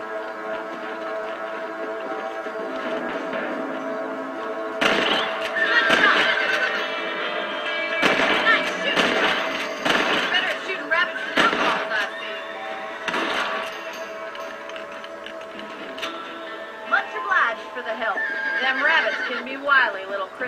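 Horses whinny and neigh repeatedly in the Red Dead Redemption western game, with several loud, shrill calls over a steady ambient bed, hoofbeats clip-clopping and game dialogue heard in places.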